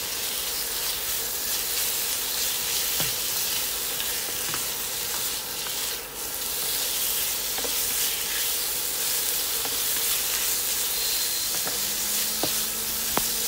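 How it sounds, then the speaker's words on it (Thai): Steady sizzling of sliced pork stir-frying in a hot pan for Thai basil pork, with occasional scrapes and clinks of a spatula against the metal. "ผัดให้หอมเลยค่ะ หอมได้ที่แล้วค่ะใส่หมูหั่นชิ้นลงไปค่ะ"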